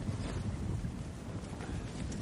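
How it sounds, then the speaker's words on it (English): Gusting wind buffets the microphone on open ground while a canvas is set up, a low rumbling roar that rises and falls in uneven surges throughout. "the wind had started gusting, which made it more tricky"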